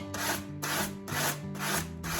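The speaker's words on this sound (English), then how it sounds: "sanding away from the paper. You want to sand off your free edge" A sanding block rubs back and forth along a paper edge on a table, giving four or five rhythmic, close, raspy strokes with no talk.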